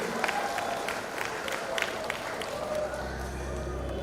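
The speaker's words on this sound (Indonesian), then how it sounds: "Kita boleh berikan tepuk tangan yang paling meriah buat para pengurus terpilih." Audience applause for newly elected board members at a Christmas celebration and installation ceremony in Medan, a steady wash of clapping from a crowd that holds evenly throughout, with a low hum entering near the end.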